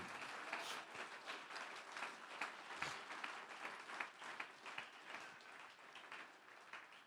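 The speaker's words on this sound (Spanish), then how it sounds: "¿Quiere aplaudir la presencia de Dios?" Church congregation applauding during a Spanish-language worship service, a dense, steady wash of many hands clapping at moderate distance, sustained throughout with no talk over it.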